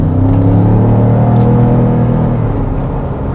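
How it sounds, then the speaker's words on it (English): A Ford F150 pickup's engine gives a deep, throaty roar as it accelerates up to highway speed, a loud steady drone with strong low harmonics filling the cabin. "Wow, nice roar of the motor. It almost sounds like a V8."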